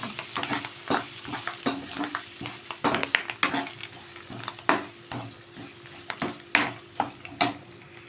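Tempering spices (popu) frying and being stirred in a pan for a bottle gourd milk curry, with a steady sizzle and repeated scraping stir strokes close by.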